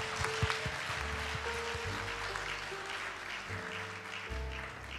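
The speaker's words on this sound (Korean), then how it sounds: "다시 한번 큰 박수 부탁드립니다" Congregation applause during a church school Christmas celebration service, fairly quiet clapping under sustained organ or keyboard tones and low hum, with the clapping fading in and out.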